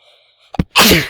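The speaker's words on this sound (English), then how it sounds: "That was a sneeze." A single sharp sneeze bursts out close and loud, preceded by a quick gasping intake and a faint tone fading out.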